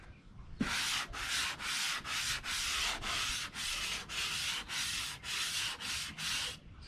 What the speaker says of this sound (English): I'm basically just using the weight of the sandpaper itself, or the sand block.